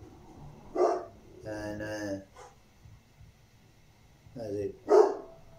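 A dog barks outside in a few short bursts, a pair close together and then another pair a few seconds later, moderately loud and mixed with a voice speaking briefly.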